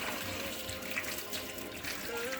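Warm water running from a home kitchen tap while vegetables are washed, a steady, moderately quiet splashing flow with no talking.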